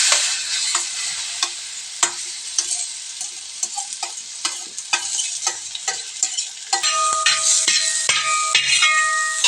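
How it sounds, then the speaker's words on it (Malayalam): Chopped plantain pieces sauté in ghee in a pan for banana aval payasam, giving a steady bright sizzle broken by frequent sharp clicks and scrapes of a stirring spoon, with no talk. "കത്തിട്ടുള്ള നല്ലതായിട്ട് ഏത്തയ്ക്ക വഴറ്റി എടുക്കണം."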